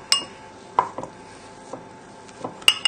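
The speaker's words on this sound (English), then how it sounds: "we're just going to use the back of a spoon and just try it and mash it a little" A spoon presses and mashes crumbled Stilton cheese into a sauce in a pan, giving sharp metallic clinks and taps spaced irregularly. A couple of louder knocks come at the start and end, with no talking.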